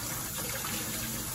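Tap water runs steadily from a kitchen faucet into a sink as raw chicken is rinsed, a continuous close, even gushing stream with no voices.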